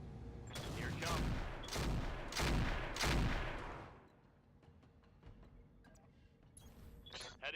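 Heavy mech weapons fire in the BattleTech-based strategy game Roguetech, a series of four loud booming volleys over the first four seconds, followed by quieter scattered impacts and mechanical noises.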